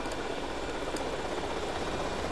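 An RC helicopter flies in GTA Vice City, a steady, even buzzing drone with no pauses, moderately loud and alone.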